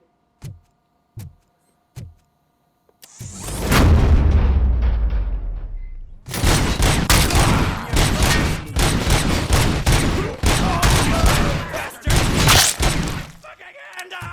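Rapid bursts of gunfire from the Robocop: Rogue City video game, loud and sustained for about ten seconds after a few soft thumps and a heavy blast, with a brief voice murmuring beneath.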